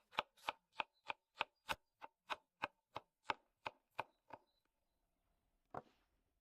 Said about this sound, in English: Slice it into half rings so that our borscht will have a fresh taste.